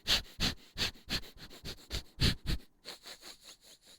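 Loud, close breathing and sniffing right into a microphone, a rhythmic series of about a dozen sharp sniffs and breaths, alone with no talk.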